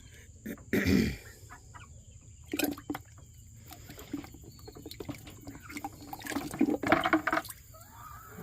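A single splash as a block of ice drops into water, followed by quieter sloshing and a few small liquid movements nearby.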